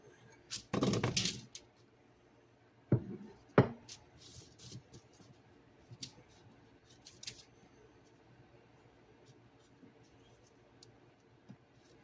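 Scissors snip through parchment paper in a home kitchen during breakfast burrito prep, a burst of crisp cutting followed by a few sharp clicks and soft rustles, close and alone.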